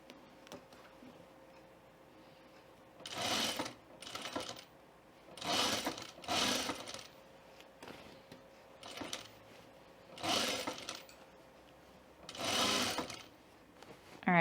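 Sewing machine stitching a sleeve seam on a button-up shirt, running in several short bursts of rapid ticking separated by quiet pauses.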